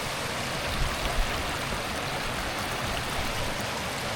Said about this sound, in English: Lovely little waterfall